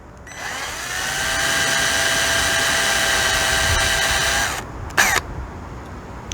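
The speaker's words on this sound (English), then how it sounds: "I'm just going to drill it for a second or two until I feel like I've went down in this, they call it a post or a rivet" Steady whine of a power drill boring into the rivet post of a Hot Wheels toy car, running loud and close for about four seconds, then stopping, followed by a brief second burst.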